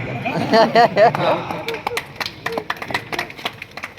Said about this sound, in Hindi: 3 आदमियों ने ताली बजाई।